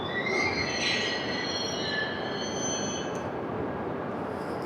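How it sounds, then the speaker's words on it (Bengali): Two Japanese Hayabusa bullet trains couple together at a station, with long high squeals and a loud steady rumble of rail noise near at hand. "একটা বুলেট ট্রেনের সাথে একটা বুলেট ট্রেনকে জয়েন করে দেখুন, হায়াবুসা।"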